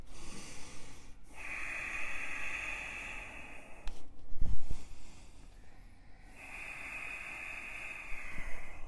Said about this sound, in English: The intensity of the breath, Ujjayi Pranayama.